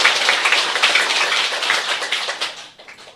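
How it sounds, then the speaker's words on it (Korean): Audience applause at a Korean spiritual broadcast event, dense continuous clapping from a crowd that holds steady and then tapers off near the end. "여러분 다시 한번 뜨거운 박수를 보내주시기 바랍니다"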